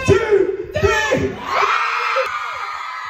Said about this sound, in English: Scream louder than you've ever screamed before.